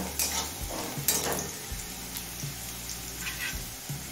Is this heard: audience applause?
no